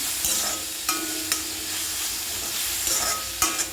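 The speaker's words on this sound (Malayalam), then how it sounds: "ഉള്ളിയും പച്ചമുളകും കൂടെ ഇട്ട് നമുക്ക് അത് നന്നായിട്ട് നമുക്ക് ഫ്രൈ ചെയ്ത് എടുക്കാം" Onions and green chillies fry in a little oil over a slow flame for an egg roast, a steady soft sizzle with a few sharp clicks of a spoon stirring the pan.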